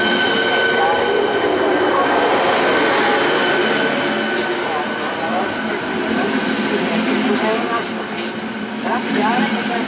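Loud, steady rumble of a passenger train at Praha Běchovice station, with rolling noise and faint squeals, and a Czech public-address voice speaking over it.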